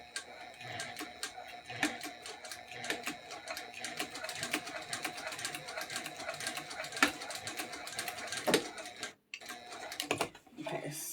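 A sewing machine stitches a rucksack bottom panel to the back, running in a steady, rapid mechanical patter with brief stops and restarts, close and fairly quiet.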